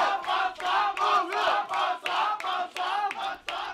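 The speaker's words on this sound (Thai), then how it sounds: "เสียงเชียร์ปักษามาอีกแล้ว" Crowd at a Thai-commentated women's wrestling match cheering rhythmically for wrestler Paksa, with repeated chant-like bursts of many voices in a steady pulsing pattern, fairly close and filling the space.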